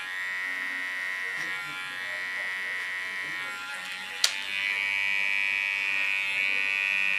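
A Keone hair clipper set to about 2.5 millimetres hums with a steady close electric buzz during a pixie haircut, with a sharp click midway and the tone growing slightly louder afterward.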